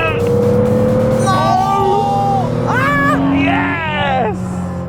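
Cheap Porsche engine pulling hard through third gear with a sustained low drone and rising harmonics, near and loud, while several people talk and shout over it.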